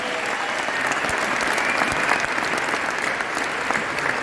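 Sustained, dense applause from an audience at a Vestige award function, steady and loud throughout with no speech over it.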